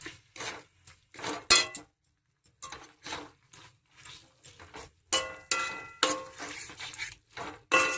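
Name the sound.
stirring mutton fat in a cooking pot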